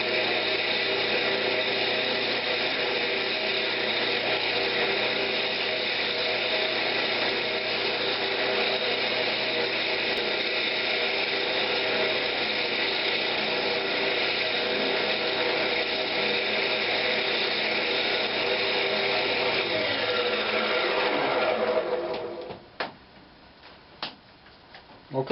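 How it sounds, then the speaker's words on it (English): A wooden tri-cornered box being scraped on a woodturning lathe gives a continuous, dense rasping whir that holds steady for over twenty seconds, then stops abruptly, leaving a few faint clicks. "I'm just gonna go ahead and scrape this and make it look all nice and pretty"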